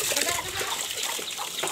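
Water poured into a container at a goat pen, a short continuous splashing trickle that stays steady and fairly close throughout, with no talk over it.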